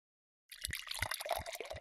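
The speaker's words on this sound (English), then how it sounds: "The fish can squirt." Toy fish squirting bath water in a children's bathtime game, a short burst of wet splashing and dripping spurts that starts after a moment of silence.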